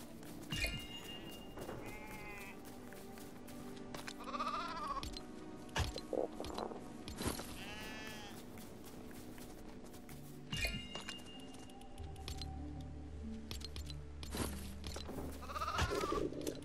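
Sheep bleat repeatedly in the Lego Fortnite video game, several wavering calls spread across the scene at moderate distance over steady game ambience, with occasional clinks.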